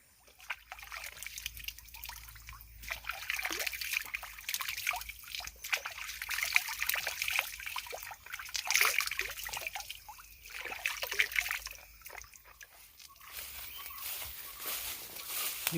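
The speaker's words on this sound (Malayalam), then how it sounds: "ഇതാണ് മച്ചാന്മാരെ ഇവിടുത്തെ തോട് ഞങ്ങളുടെ അടുത്തുള്ള" A small stream beside banana, coffee and pepper plantations trickles and splashes steadily and close by, with no voices over the flowing water.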